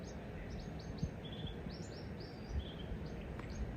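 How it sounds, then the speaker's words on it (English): Several high, thin bird chirps come and go over a steady outdoor background rumble, faint and scattered across the moment. "Oh, listen to those birds."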